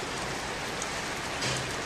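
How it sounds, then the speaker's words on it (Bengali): Heavy rain pours down in Subarnachar, Noakhali, as a dense, steady hiss of drops hitting surfaces, loud and continuous throughout. "বৃষ্টি হইতেছে নোয়াখালীতে"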